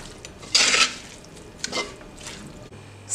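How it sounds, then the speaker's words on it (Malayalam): A spoon scrapes and clinks around a pot of mutton curry in a few short stirring strokes, close and fairly loud, with a sharp clatter at first, then quieter scrapes and faint liquid sounds. "നന്നായിട്ട് മിക്സ് ചെയ്യാം."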